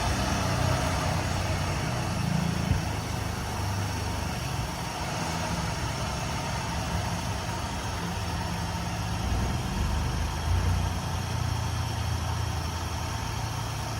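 A vehicle at a city auction idles steadily after a jump start, a continuous low engine hum with even, unchanging rumble throughout and no talking over it.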